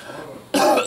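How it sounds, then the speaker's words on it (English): A single short, harsh cough from a person with a lingering cough, close and loud, bursting abruptly after a moment of quiet room tone. "I still have a little cough."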